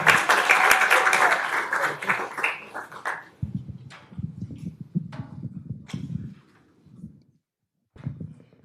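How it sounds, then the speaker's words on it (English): A crowd at a commission meeting applauds for years of service awardees, loud clapping for about three seconds before fading into scattered hand claps and murmuring. "another round of applause for our year of service awardees"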